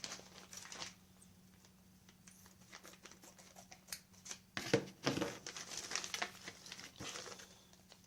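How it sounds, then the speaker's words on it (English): Quiet crinkling and snipping as scissors cut open plastic packaging of chainsaw parts, with a few sharper cuts and rustles in the middle, close and soft. "I'll use my scissors this time instead of my knife"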